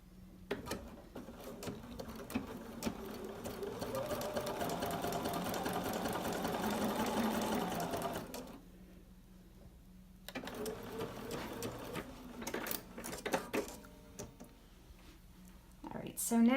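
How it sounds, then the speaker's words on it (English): A Bernina sewing machine stitches a zigzag with the 1D foot, running in a fast rattling burst of several seconds, then shorter runs separated by pauses, close up and mixed with soft handling noises. "now I'm just going to sew a zigzag stitch with my 1D foot."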